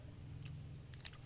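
Crisp bites into a crunchy Nissin Lovely chocolate cream sandwich biscuit: a few quiet, close crunching snaps over a low steady hum, with no talking.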